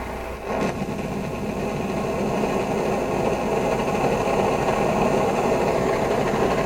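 An Optimus Nova camping stove burns at full flame with a steady, close roaring hiss that swells slightly as it is turned up, no one speaking.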